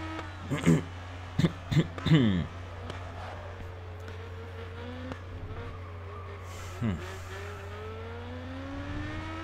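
Race cars overtake in GRID Autosport, with brief bursts of engine revving and tire noise over a constant low engine hum, fairly faint; a person talks between the bursts.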